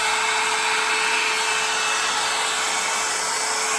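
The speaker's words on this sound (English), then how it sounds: "now I'm going to use my heat gun to move this paint around and soften it up a little bit" A heat gun blows steadily over acrylic resin paint poured on a 12 x 12 inch wood panel, a continuous close airy whine with a faint tonal hum and no pauses.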